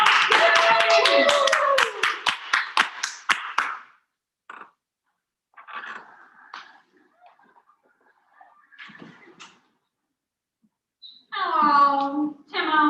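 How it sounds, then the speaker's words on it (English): Applause for improv performers at a virtual college improv festival: a burst of clapping, loud and close, for about four seconds, then scattered faint sounds before a voice starts talking. "Let's give these guys a round of applause."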